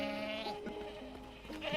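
Sheep bleat in a simple arcade video game about herding a flock, a few wavering close calls running together over a faint electronic backing.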